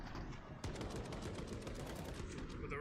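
Rapid M4 rifle fire from a competitive shooter video game, a dense burst of closely spaced shots running continuously at steady loudness after a brief quieter lead-in.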